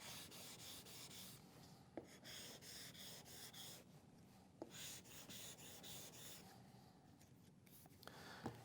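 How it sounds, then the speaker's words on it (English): A waterstone rubbed to ease its edges, soft continuous scraping and sanding strokes heard up close but faint, with a few small knocks. "I'm going to ease the edges of the stone."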